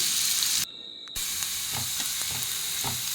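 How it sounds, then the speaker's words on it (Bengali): Chopped onion and green chili fry in hot oil for egg chicken chowmein, a continuous close sizzle with a brief dip in sound near the start and soft stirring scrapes, no voices. "পেঁয়াজটাকে আমি ভেজে নেব তেলের উপরে।"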